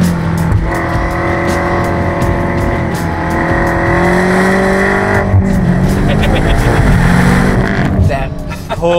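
A tuned 4-rotor Mazda RX-7 accelerates hard, its engine note rising steadily through the revs, loud and close, with people talking over it.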